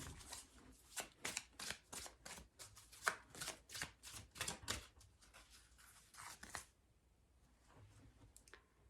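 Tarot cards shuffled by hand in a quick run of crisp riffles and slaps, close and fairly quiet, stopping abruptly near the end before a couple of faint handling sounds.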